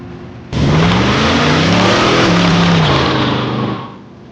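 A 1951 Hudson Hornet's engine starts abruptly and roars loud and close, rising in pitch as it revs, then fades away near the end.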